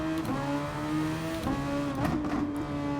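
Formula-style race cars in the Gran Turismo video game, engines droning and whining at steady pitch with gear-shift jumps, moderately loud and continuous.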